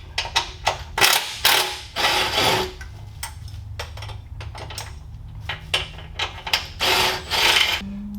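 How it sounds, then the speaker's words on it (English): A 14mm ratchet wrench and socket unbolting the steel frame bolts of a TrailMaster MB200-2 minibike makes close, loud bursts of rapid ratchet clicking, with short pauses between bursts. "We'll unbolt those as well with the same 14mm wrench and socket."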